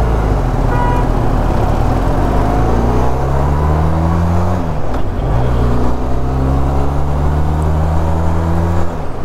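Road traffic pulls away from a signal as heard from a motorcycle, with steady loud engine drone and rising, gliding engine tones as the vehicles accelerate; no talking.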